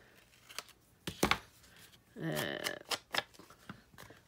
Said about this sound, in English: So I'm going to cut off a little bit.